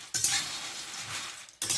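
Peanuts frying in a pan, giving a brief, close hiss of sizzling with stirring noise that cuts out sharply and resumes.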